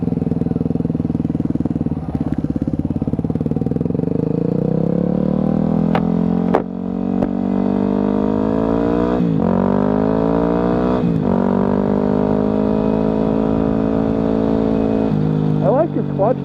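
A 2009 Yamaha WR250F dirt bike engine with a quiet stock exhaust runs continuously and loud up close, revving up and down through gear changes with a rough, throaty drone.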